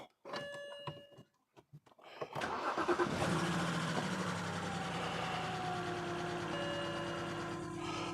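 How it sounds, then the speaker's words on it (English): A few quiet clicks, then a BMW M Sport's engine cranks and catches with a sharp rise, settling into a steady, fairly loud idle. "we'll just start the car"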